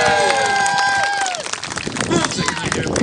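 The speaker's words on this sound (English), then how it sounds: "can I hear a big loud cheer for our trebuchet winding crew" Crowd at a Warwick Castle trebuchet demonstration cheering and clapping for the winding crew, a broad burst of noise that runs the whole stretch, with a loud voice carrying over it at the start.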